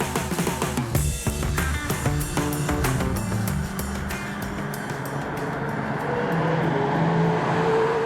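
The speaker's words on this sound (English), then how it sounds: "first day in this car, the Nissan Sentra" A Nissan Sentra engine revs and roars continuously at speed on a race track, with the pitch rising and shifting through gear changes, loud and close throughout.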